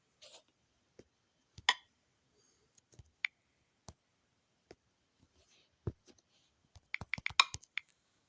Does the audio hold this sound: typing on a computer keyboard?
yes